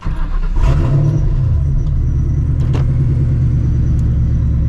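Procharged 4.6 2V Mustang GT with exhaust cutouts open during a drive, a loud continuous deep exhaust rumble that swells briefly as the throttle opens, then holds a steady close drone.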